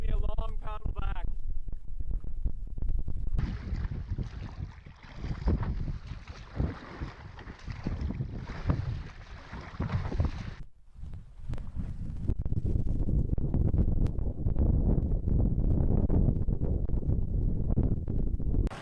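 Strong gusting wind buffets the microphone while paddling on a lake, a loud, rough, low roar that rises and falls, briefly dropping out mid-way before surging back steady and heavy.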